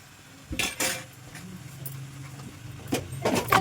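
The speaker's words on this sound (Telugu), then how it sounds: "మటన్ వేసేసుకొని మంచిగా కలుపుకోవాలి" Mutton stirred into oil in a pot with a metal spoon, with a few scraping clinks and clanks against the pot and a soft low hum in between.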